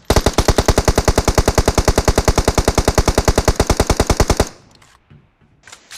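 Rapid sustained automatic gunfire from a PUBG Mobile battle, about forty evenly spaced loud shots in a steady burst lasting several seconds, then cutting off to near silence with faint scattered noises.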